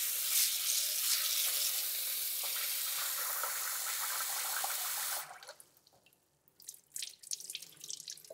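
Rice being rinsed with water in a pan, a steady rushing pour of water for about five seconds, then quieter sloshing and swirling with scattered splashes, close and alone without talking.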